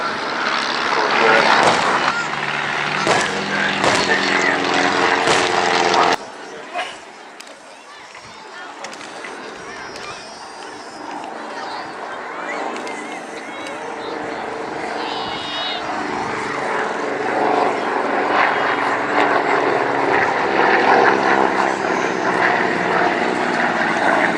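A propeller-driven navigational trainer aircraft at the RAF Cosford air show gives off a loud, steady engine drone that swells and fades as it passes. A public-address commentator talks over it throughout.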